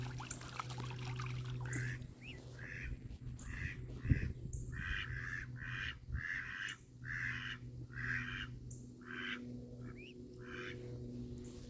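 Ducklings outdoors give a rapid run of peeping calls, a dozen or so evenly spaced bursts, as a bird of prey passes overhead, moderately loud over a steady low hum.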